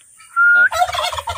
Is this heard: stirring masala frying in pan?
no